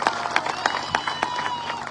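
Audience applauding at a political rally in Jat, Sangli, brisk irregular clapping from a crowd, with distinct sharp claps standing out over a busy murmur, moderately loud.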